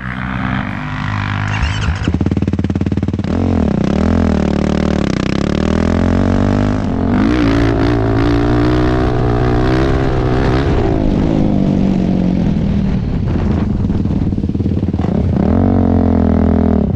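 A Yamaha YFZ450R quad engine revs loudly and up close off-road, its pitch climbing and falling through repeated throttle swells and sustained high-rev stretches, with no talking.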